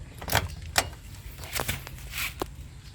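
Keys jangling as a key goes into the ignition of a diesel generator that will not start, a few bright metallic clinks close by, with no talking.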